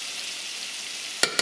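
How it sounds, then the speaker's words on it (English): Minced garlic frying in a pan gives a steady soft sizzle, then two sharp clicks at the end. "Heaping tablespoon of garlic, minced garlic. I'm gonna add that."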